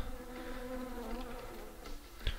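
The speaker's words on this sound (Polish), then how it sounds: "Huh, muchy tu są." Flies buzz in the sniper video game Sniper Ghost Warrior 2, a steady droning hum close by, with a soft thump near the end.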